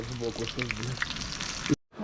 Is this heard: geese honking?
no